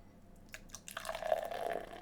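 Beer poured straight from a can into a glass, a soft liquid splash building into a steady fizzing, gurgling stream over about a second, fairly quiet and close with no talking.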